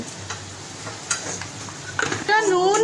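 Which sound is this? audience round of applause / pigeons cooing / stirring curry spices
stirring curry spices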